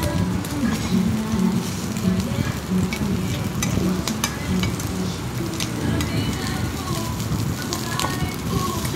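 Pork belly sizzling and frying on a Korean samgyupsal grill, with a steady crackling hiss throughout and occasional stirring and scraping as pieces are turned, while people talk in the background.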